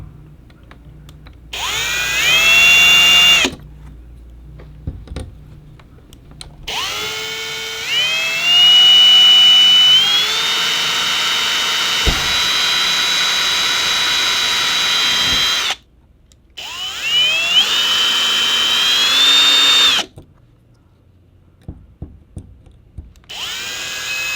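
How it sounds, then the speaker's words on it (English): A power drill whines loudly in several bursts, revving up and pitching upward, with short pauses between runs, drilling pilot holes to hang a Lippert screen door accessory. "we're just going to drill a couple little pilot holes real quick"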